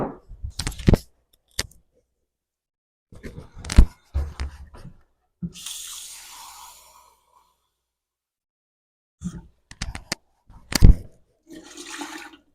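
A kitchen tap runs hot water in short bursts to fill a measuring cup while making peach onion relish, with splashing pauses and bits of clatter between the bursts.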